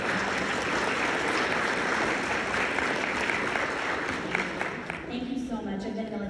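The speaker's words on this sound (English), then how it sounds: "We want to clap for you." A large audience at a convention breakout session applauds military and first responder families, loud sustained clapping that fades slightly toward the end as a voice begins speaking.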